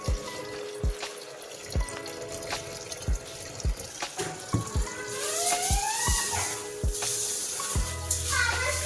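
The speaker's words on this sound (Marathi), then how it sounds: "गहू आणि ज्वारी पाण्याने धुवून वगैरे घ्यायचे आणि भिजत घालायचे आहे" Water splashing and sloshing as wheat and sorghum grain is washed by hand, with repeated knocks and drips, loudest toward the end.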